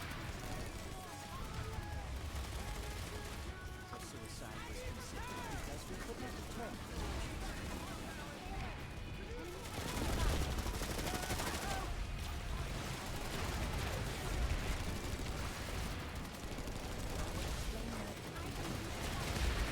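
Dense gunfire and explosions from the PlanetSide 2 video game form a busy, continuous barrage of rapid shots and blasts under a layer of game noise.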